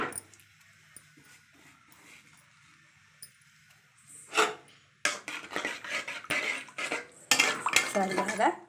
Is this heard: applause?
no